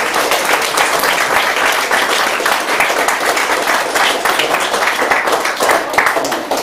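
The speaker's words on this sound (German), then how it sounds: "alles Gute und Applaus für Ilja" A small group at a language institute certificate presentation claps for a recipient, a steady, loud, sustained patter of hands lasting several seconds.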